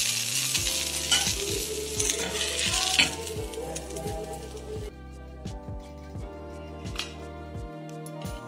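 A bread omelette toasting in ghee in a pan, with a steady sizzle and a repeated rhythmic scraping of a spatula against the metal, close and clear. Background music plays underneath.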